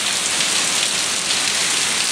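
Heavy rain pours down in a dense, steady hiss, loud and unbroken.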